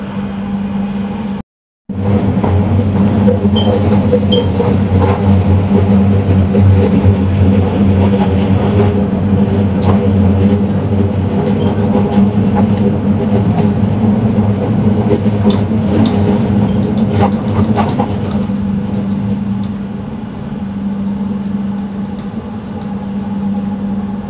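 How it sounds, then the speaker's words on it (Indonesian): A Jabodebek LRT light rail train pulls into Pancoran station, giving a loud, steady low motor hum with a faint higher whine that eases off slightly toward the end. "LRT yang saya naiki tiba di stasiun"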